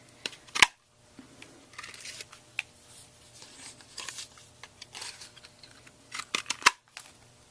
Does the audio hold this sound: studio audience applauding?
no